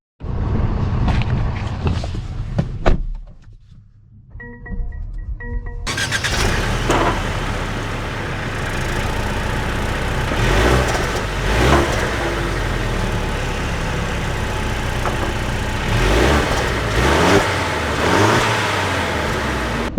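Engine of a new Mercedes-Benz E-Class starting up and the car pulling away, a steady interior drone with swells of acceleration and road noise running continuously after a brief quiet pause near the start.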